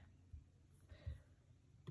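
Computer mouse clicking during graphic editing in Canva: a few sparse, soft clicks spaced irregularly over two seconds, close and quiet, with no talking.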